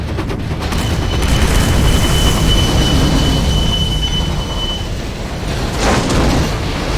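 A train rolls in during a Command & Conquer Generals mission, its wheels squealing with a long steady high whine over a loud continuous rumble of rail cars, with heavier bursts near the end.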